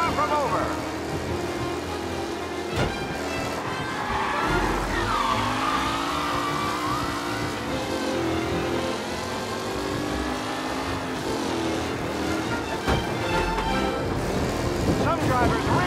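Race cars speed past in a Mafia: Definitive Edition race, engines droning and revving loudly and continuously with surging pitch sweeps as cars pass close, under a commentator's voice.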